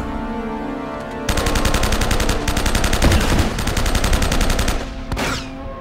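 Rapid automatic gunfire in the Uncharted: Drake's Fortune video game: a loud, dense burst of shots lasting several seconds, then a final single shot.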